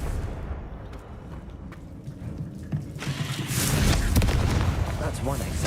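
A Confringo explosive spell in Hogwarts Legacy starts from murky game ambience with mechanical clicks. About halfway through, a loud, sustained fiery blast and rumble swells up and rolls on to the end.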